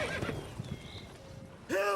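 Horse hooves clip-clopping while riding in the video game The Witcher 3, ending with a loud, close neigh; a voice talks faintly under the hoofbeats.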